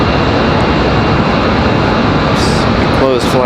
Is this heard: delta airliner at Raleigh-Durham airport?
yes